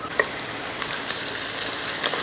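Curry leaves dropped into hot oil for a Kerala tuna curry sizzle and crackle steadily, with a couple of sharp pops near the start, fairly close and alone.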